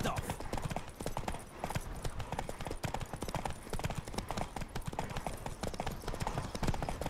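Rapid, steady hoofbeats of a horse galloping flat out in a race in The Witcher: Wild Hunt, a dense, loud clip-clop rhythm running continuously throughout.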